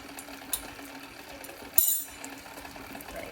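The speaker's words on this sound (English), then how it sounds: "but I'm just gonna use my mixer" An electric mixer mashes bananas for chocolate banana muffins, giving a quiet, steady motor whir with a couple of brief clatters over a few seconds.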